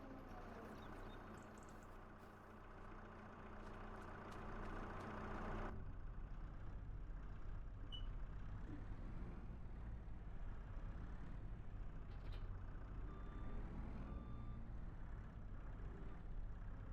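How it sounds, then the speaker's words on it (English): Tractor engine in Farming Simulator 25, a steady low droning rumble that runs continuously, with a brighter layer that drops away partway through and occasional faint clicks. "I'll bring the tractor back down this way."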